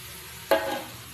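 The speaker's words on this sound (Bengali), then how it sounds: "নিয়ে এবার ভালো করে নেড়ে চেড়ে কষিয়ে নেব।" Spices hit a hot pan for chicken momo filling, a sudden soft burst of sizzling halfway through that lingers briefly as it fades.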